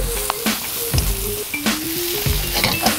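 Noodles and vegetables sizzling and stir-frying in a hot pan for a Thai dish while a utensil stirs and scrapes, with occasional clinks against the pan.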